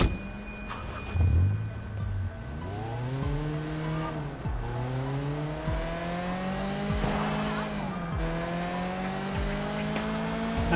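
Car in the video game Sleeping Dogs on PS4 doing a handbrake turn, the engine revving and rising and falling in pitch while the tires squeal and skid, loud and sustained.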